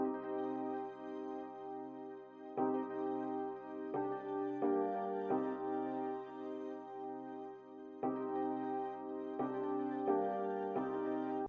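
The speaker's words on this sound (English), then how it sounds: "I use the 11th preset Touch EP SRX and altogether it sounds like this." Mellow electric piano from the Touch EP SRX preset plays a slow, repetitive chord progression for a smooth rap beat, each sustained chord changing every second or two, steady and fairly soft with no voices.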